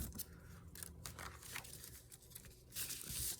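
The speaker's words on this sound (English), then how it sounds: "I'm just gonna cut this bit off." Quiet, close scissors snipping through a thin acetate sheet in a series of crisp cuts with light crinkling of the plastic, no talking.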